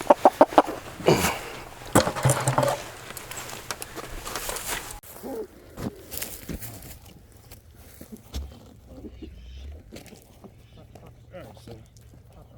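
Delaware chickens and a rooster in a backyard chicken tractor, clucking and low cackles scattered under steady talk from a man, with a few sharp knocks near the start.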